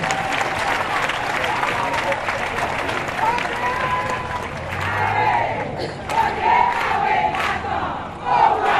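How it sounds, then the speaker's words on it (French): A crowd applauds and cheers, with shouts rising over steady clapping throughout. "Je vous demande de les applaudir bien fort."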